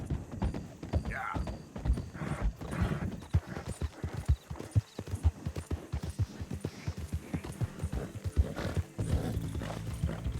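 Horse hooves pound in a steady galloping rhythm across a stretch of open ground in Red Dead Redemption 2, loud and close, with a brief whinny near the start and a voice urging the animal on.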